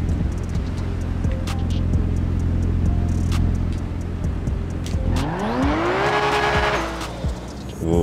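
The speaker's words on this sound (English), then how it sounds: "let me start up the Maxima" A Nissan Maxima engine in GTA 5 rumbles steadily, then revs up in rising sweeps with tire squeal near the end, loud and close.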